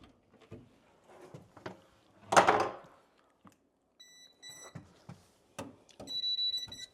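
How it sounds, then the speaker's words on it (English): A gas stove gives short electronic beeps as power returns to it on a newly installed 110V outlet: a few quiet pips, then longer, steadier beep tones near the end amid soft handling clicks. "if you hear the beeping, beep, beep, beep, means everything is on."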